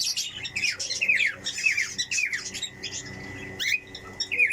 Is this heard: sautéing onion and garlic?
no